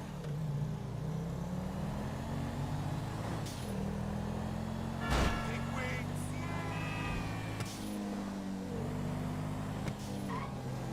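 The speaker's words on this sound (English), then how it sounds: "Let's drive the car." A video game car engine hums steadily and rises and falls in pitch as it shifts gears, with a few brief thuds over the continuous drone.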